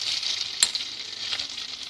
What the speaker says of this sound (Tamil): இப்போ வெங்காயம் வதங்கிருச்சு.